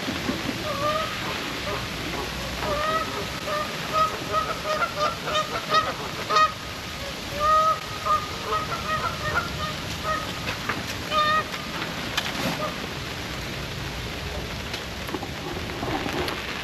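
Geese honking over a lake at a campsite, a repeated string of mid-distance honks set against a steady rushing wash of wind or rain, with occasional louder bursts.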